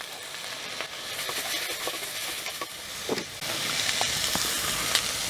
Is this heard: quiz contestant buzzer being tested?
no